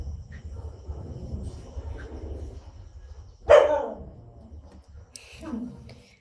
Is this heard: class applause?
no